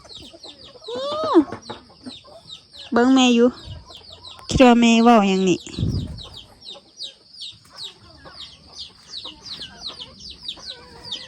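Backyard chickens raised by a rural family cluck in short bursts nearby, mixed with a few calls, while people talk over them and high insect or bird chirping carries on in the background.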